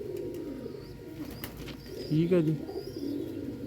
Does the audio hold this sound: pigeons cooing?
yes